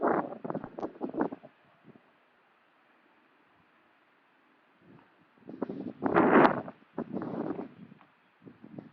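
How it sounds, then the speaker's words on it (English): Wind gusting outdoors in a garden buffets the microphone in rough, rumbling bursts, strong at the start and again later, with a near-quiet lull in between. "It's really windy, so hopefully you can hear me without too much of a problem."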